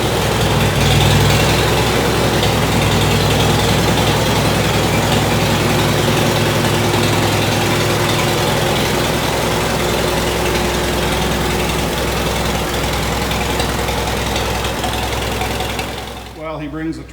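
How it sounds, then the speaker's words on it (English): A Minneapolis-Moline U tractor engine runs steadily as the tractor is driven around, a loud, continuous low rumble that holds for most of the time before tapering off near the end. "While he brings the tractor around"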